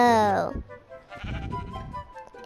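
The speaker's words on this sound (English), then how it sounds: "Because I think it is a sheep." Sheep in Minecraft bleating once with a clear, wavering cry at the start, followed by soft crunching footsteps on snow in a frozen tundra area.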